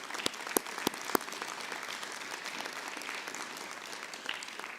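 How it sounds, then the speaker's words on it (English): A school board meeting audience gives a modest round of applause, with a few sharp, close claps standing out at the start above the soft, steady patter of the room. "So just another round of applause for you for those things."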